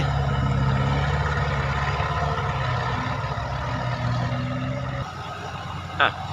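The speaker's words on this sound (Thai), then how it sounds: "รถไถเข้ามา" A farm tractor drives in at an earthmoving site, its engine running with a steady mid-low hum and rumble that drops away near the end, while voices talk over it.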